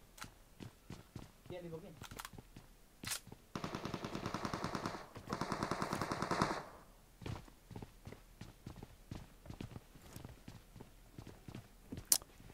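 M16 fire in PUBG Mobile: two long automatic bursts ring out alongside scattered single shots and sharp clicks. Several players talk over the gunfire.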